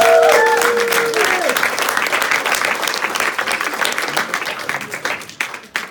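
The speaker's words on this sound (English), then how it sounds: "Give yourselves a huge round of applause." Live hypnosis show audience breaking into loud, sustained applause and cheering, a dense crowd of clapping hands that holds steady and then slowly thins and fades, with brief whoops near the start.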